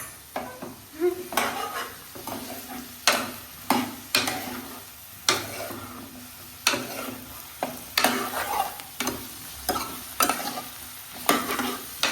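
A spoon scrapes and stirs bitter gourd pieces simmering in a pan for a tamarind stew, giving regular clattering strokes about once a second over a soft sizzle, close and clear with no talk.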